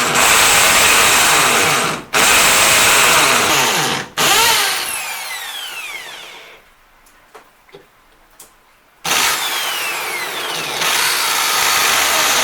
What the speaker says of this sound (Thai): เจาะให้ทะลุกระเบื้องไปนะครับ